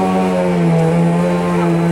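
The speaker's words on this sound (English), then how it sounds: "We'll stop vacuuming" A Bissell Powerlifter vacuum cleaner runs steadily on a hallway rug, a loud continuous motor drone with a strong low hum and bright overtones, alone and unbroken throughout.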